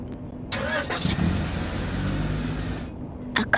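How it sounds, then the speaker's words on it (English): A car engine cranks and turns over in the PC game I Spy: Treasure Hunt, a short starter burst settling into a steady mid-pitched idle that cuts off after a couple of seconds, close and clear with no talk. "A car."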